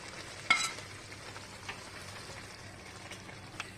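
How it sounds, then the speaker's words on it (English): Beef pieces go into a pot of boiling masala for Kerala beef pickle, giving a sharp splash and sizzle near the start, then steady frying crackle with faint stirring. "Next we add the beef to the masala."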